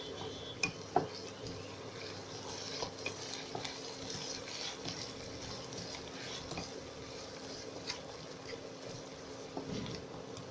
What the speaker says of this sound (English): Now put the ginger garlic paste and fry that.